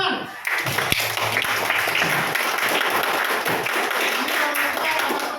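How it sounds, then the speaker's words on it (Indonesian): A class group claps together in a classroom, a burst of hand clapping that starts abruptly and continues steadily for several seconds, fairly loud and close. "Nah, tepuk tangan."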